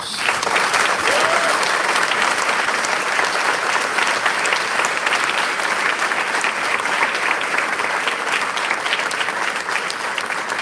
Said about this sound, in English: all children who have participated, they deserve a big applause